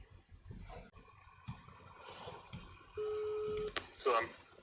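A few short telephone dialing tones sound near the end over faint background noise and murmured speech, with a steady tone just before them.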